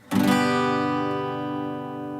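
The first chord of a song, strummed once on guitar, rings out clearly and sustains, slowly decaying over a couple of seconds with no voices.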